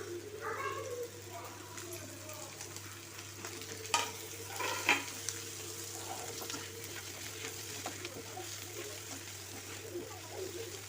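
Boiled, chopped goat brain sautéed with turmeric in a pan: a soft, steady sizzle with occasional stirring scrapes and a couple of louder clinks, fairly quiet overall.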